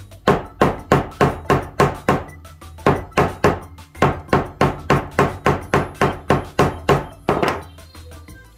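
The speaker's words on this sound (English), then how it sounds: "once I pound it from the wrong side, I pound it from the right. By this being of this nylon type material, it won't scratch or hurt the leather" A nylon mallet pounds a sewn leather seam flat, delivering about two dozen sharp, evenly spaced thuds in quick bursts with brief pauses between runs, loud and close with no talk.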